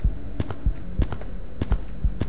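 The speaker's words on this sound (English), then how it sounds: "Why is there a heartbeat?" A heartbeat in the video game Dark Domination 2 thumps as soft, low paired beats in a steady rhythm over a constant background hum.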